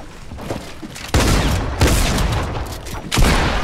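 A Legendary Tac Shotgun fires in Fortnite with loud, close blasts, three heavy booms spaced about a second apart over a busy wash of game noise.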